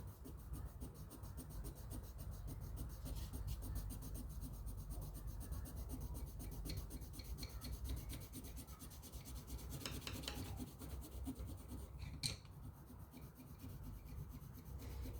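Lightfast warm gray colored pencil scratching across paper, a steady close, soft rasping texture that continues throughout with no talking.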